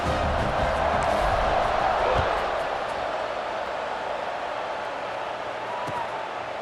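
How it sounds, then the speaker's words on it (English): Stadium crowd in College Football 26 roars steadily after a scoring drive and extra point, a broad continuous cheer that holds loud throughout and eases slightly toward the end. "this crowd is feeling themselves after that last drive"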